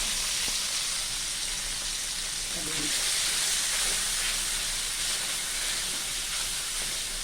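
Pork stir-frying in a pan for a Thai morning glory stir-fry gives off a steady, loud sizzling hiss that runs continuously, with faint voices underneath.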